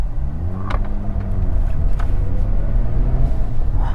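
A Mazda RX8 pulling away on its first drive after a Copart auction purchase, a loud steady engine drone and rumble close by inside the car, rising slightly in pitch as it drives off.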